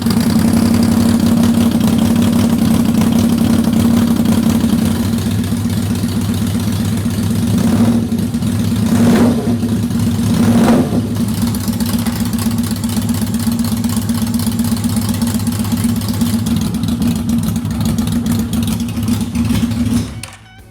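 Yamaha Vmax motorcycle engine running loudly at a steady idle, a close, continuous low rumble with a couple of brief blips around the middle.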